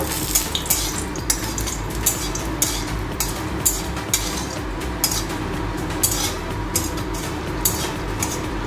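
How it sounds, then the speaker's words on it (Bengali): Two dried red chillies frying in hot oil in a home kitchen, a steady close crackle with occasional sharp clinks of utensil against pan, no voices. "দুটো শুকনো লঙ্কা ফ্রাই করে নেব।"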